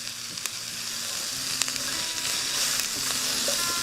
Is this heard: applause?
no